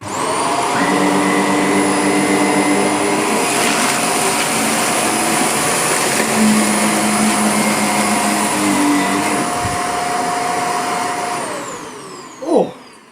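Two Shark Powered LiftAway NV680 vacuum cleaners run side by side on carpet, a loud steady whirring roar with shifting motor whines that holds for several seconds, then winds down with a brief clunk near the end.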